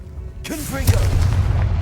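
In Hogwarts Legacy a Confringo explosive spell goes off partway in, a sudden loud boom that rumbles on to the end, with a character's shouted voice over the start of the blast.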